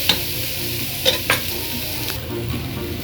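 Pancit noodles stir-fried with garlic and dried shrimp sizzle steadily in a hot pan, close and loud, with a few sharp scrapes and clinks of a spatula stirring.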